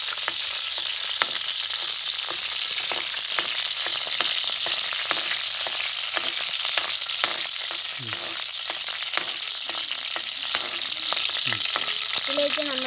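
Green chillies frying and sizzling in hot oil in a pan, a steady crackling hiss with occasional stirring scrapes, close and continuous with no talk.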